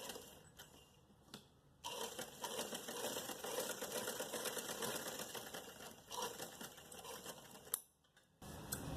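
A sewing machine runs a long, loud, continuous stitching burst through fabric, broken briefly near the start and end, close and alone without talk.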